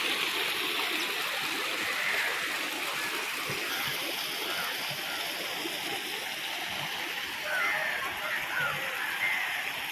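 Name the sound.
water flowing at Vadattupara Waterfalls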